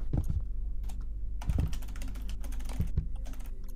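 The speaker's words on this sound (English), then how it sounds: "Who's typing?" Rapid typing on a computer keyboard, a continuous patter of clicky keystrokes with a few heavier thumps, close and loud, with no voices.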